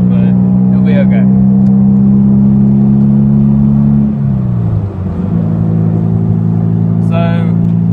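A car's engine drones loud and steady from inside the cabin, its pitch dipping and then settling as it moves onto the interstate, with a few faint clicks and rattles over the hum.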